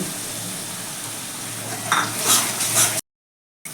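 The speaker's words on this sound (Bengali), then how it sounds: "এবার আমি সমস্ত মশলাগুলোকে খুব ভালো করে কষিয়ে নেব" Spices and green peas fry and get stirred in a pan for a spiced potato curry, giving a steady hiss with a few scraping, clinking strokes near the end before the sound cuts out.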